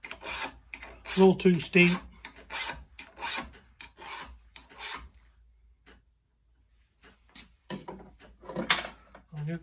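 A sheep hoof trimmer blade worked with a finer file, giving short rasping strokes in uneven bursts, close and fairly loud, with a quiet gap partway through and speech mixed in.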